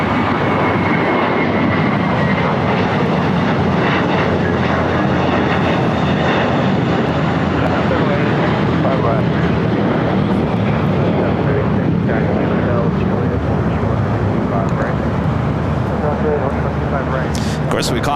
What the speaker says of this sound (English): This is JetBlue Airways flight 287 coming in from Boston on this A321